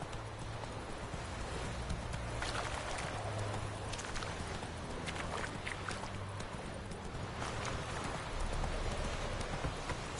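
Roach the horse gallops in The Witcher 3 video game, with rapid, continuous hoofbeats over a constant background rush and no talk.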